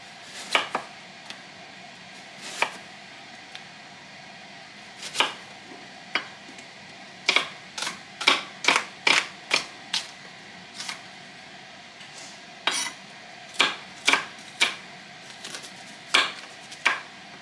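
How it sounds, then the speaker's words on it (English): A knife dices a red onion on a cutting board, sharp close chops in irregular clusters, sometimes quick runs of several strokes, with quiet pauses between. "Just dicing it up. Just going to dice it up kind of fine."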